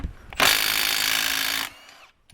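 A power tool spins loose a bearing cap bolt on a 1967–1977 Ford Dana 60 rear axle, one loud, steady whir of about a second and a quarter, close by, with faint clicks before and after.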